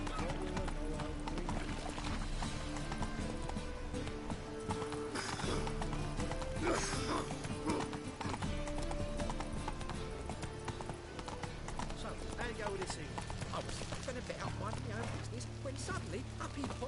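In The Witcher 3, the horse Roach gallops with steady rhythmic hoofbeats, joined by game music and someone talking over them.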